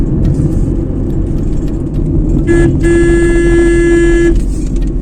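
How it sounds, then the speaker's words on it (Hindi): A car horn sounds on a mountain road, one long steady honk of nearly two seconds, close and loud above a constant rumbling engine and road noise inside the vehicle. "जहाँ पे भी मोड़ हो वहाँ पे हॉर्न जरूर बजाना चाहिए"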